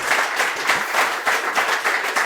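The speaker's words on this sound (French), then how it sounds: "mais on peut l'applaudir" Applause for a quiz contestant, a short burst of steady clapping from a small audience, fairly close, with no talking.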